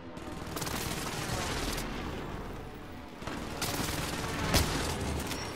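Gunshots in Call of Duty: Modern Warfare roll out as dense, overlapping battlefield fire, with one sharp, louder shot near the end, all under continuous combat noise.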